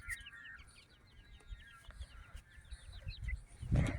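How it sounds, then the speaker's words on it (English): Pet chickens cluck and chirp close by in quick, soft, scattered calls over low rustling and handling bumps, with a louder thump near the end and no talk. "Bodie, can you take this chicken off of me"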